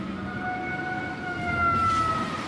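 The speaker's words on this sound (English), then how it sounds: "On March 11th, the sirens sound." A sustained tsunami warning siren wail drifting steadily in pitch, heard from a distance over low rumbling background noise.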